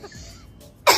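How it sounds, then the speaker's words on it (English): A person gives a short throat-clearing cough near the microphone, a faint rasp first and then one loud, abrupt burst at the end. "Cough again."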